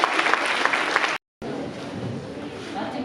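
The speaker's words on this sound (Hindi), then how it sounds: "तालियां इस बालिका के लिए" Students and audience clap for a schoolgirl at a girls' school quiz competition, a loud round of applause broken by a brief cut, then continuing more softly with some crowd murmur.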